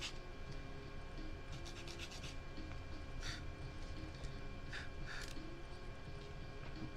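Hand sanding of small wooden pieces so they sit flush, a faint continuous scratchy rubbing with a few brighter scraping strokes, close and quiet.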